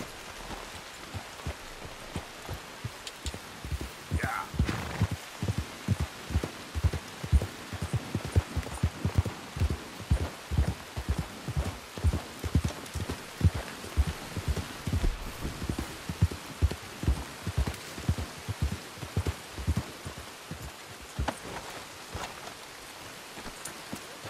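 Rain in Red Dead Redemption 2 hisses steadily under a regular series of heavy thumping impacts, likely footsteps or hooves, close and rhythmic through most of the scene.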